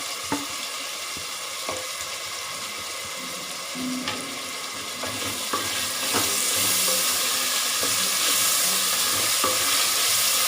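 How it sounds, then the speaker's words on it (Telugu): Tomatoes frying and being stirred in a pan for pressure-cooker mutton biryani, a steady sizzle with repeated spoon scrapes and taps that grows louder and brighter in the second half, with no talking. "బాగా అంతా మిక్స్ చేసుకొని ఫ్రై చేసుకోవాలి."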